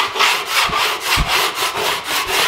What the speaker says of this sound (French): J'ai pris du grain 40 pour poncer.